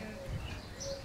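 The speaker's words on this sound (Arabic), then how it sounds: "بلبل ابيض الخدين" A white-cheeked bulbul calls at Sheikh Zayed Palace in Al Ain, a faint, fairly distant chirping under steady background noise.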